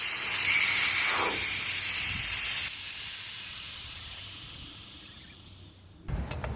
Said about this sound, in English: And you can hear it already, letting some air out.